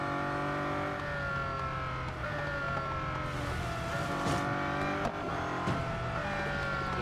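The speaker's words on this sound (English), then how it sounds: "Just need to make sure I don't overheat the engine." Race car engine in the Real Racing 3 video game, a loud continuous whine with pitch climbing and dropping through gear changes, heard alone without talk.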